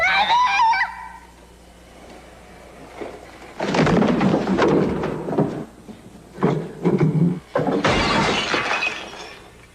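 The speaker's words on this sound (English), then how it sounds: "You smashed the Virgin Mary?" A Virgin Mary statue smashed in a film scene, heard as loud, sharp shattering crashes in two bursts, with debris and other noise scattered between them.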